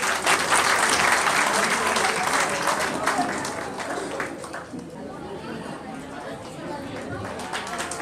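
Loud applause from an audience at a community association event on stage, dense clapping that starts strong and gradually tapers off over several seconds, with crowd chatter mixed in.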